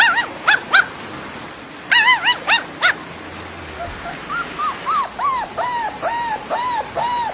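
A puppy whimpering and yipping in a replayed clip, a run of high, rising-and-falling cries, some in quick clusters, others spaced in a steady series, fairly loud and close over a low background murmur.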